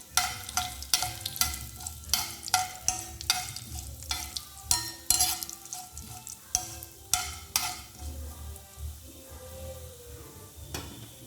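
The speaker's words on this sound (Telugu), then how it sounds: "ఒక 1 టేబుల్ స్పూన్ ఆవాలు, అలానే 1 టేబుల్ స్పూన్ జీలకర్ర, ఎండుమిర్చి వేసుకొని వీటిని ఫ్రై అవనిద్దాం." Mustard seeds, cumin and dried red chillies fry in hot oil for a curry-leaf curry, a close sizzle broken by repeated sharp scraping stirs and spluttering pops in an uneven rhythm that thins out toward the end.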